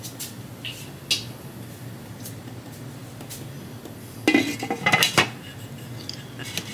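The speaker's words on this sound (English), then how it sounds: "Let's put the lid on it." A ceramic crock pot lid is set down on the pot with a few clanks and a cluster of clattering knocks near the end, close and fairly sharp against a quiet kitchen background.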